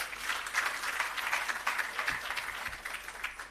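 Applause rises from an audience at the official opening of an agro park, a steady, moderately distant patter of many hands clapping without a break for a few seconds.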